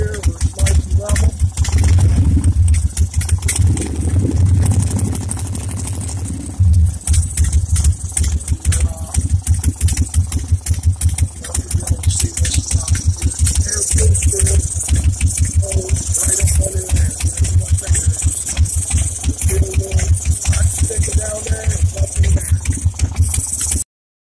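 A warm engine idling on a level stand during carburetor mixture tuning: a rapid, even putter close by that runs steadily throughout.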